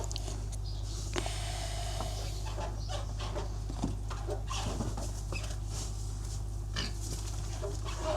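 Pigs grunt on a farm, with scattered snorts and grunts over a steady, low background hum and no talking.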